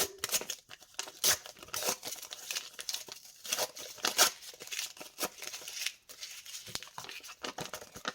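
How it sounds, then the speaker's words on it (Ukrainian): A paper surprise packet torn open at its notch, with a run of close, crisp crinkling and tearing bursts in irregular rhythm, heard alone without talk. "Я не хочу порвати пакетик, тому буду шукати насічку до кінця."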